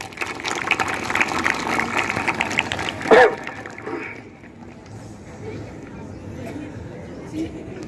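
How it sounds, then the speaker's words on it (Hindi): Loud, dense applause from a school crowd after children's stage performances at a Republic Day celebration fills the first three seconds, then stops abruptly, leaving quieter room noise with voices. "पहले उसके लिए जोरदार तालियां हो जाए"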